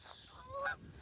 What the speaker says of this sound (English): geese flying over here